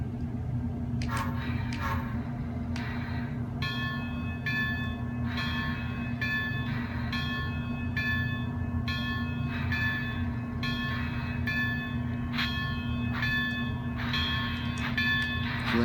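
Rhythmic chuffing bursts over a constant low mechanical hum from a moving Bachmann Spectrum 4-4-0 model steam locomotive, repeating steadily, with faint bell-like ringing tones.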